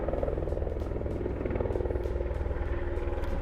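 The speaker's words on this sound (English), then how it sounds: "This time we got helicopters." Steady, loud rotor drone of helicopters overhead, a continuous pulsing throb filling the whole stretch with no voices.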